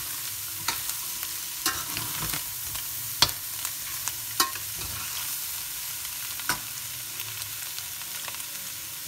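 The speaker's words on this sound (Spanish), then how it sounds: "Y ahora lo que voy a hacer es que voy a poner la carne. Voy a mezclar nuevamente." Fried rice with meat crackles in a hot pan under a steady sizzle, punctuated by sharp clacks and scrapes of a utensil stirring at irregular intervals, no one speaking.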